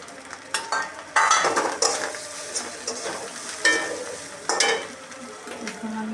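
Slit green chilies dropped into a sizzling pan of pumpkin greens, with hot oil frying steadily and a spoon stirring and clinking against the pan in several close, loud bursts.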